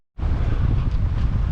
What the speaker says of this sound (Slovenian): Že pada, piha, začelo že pihati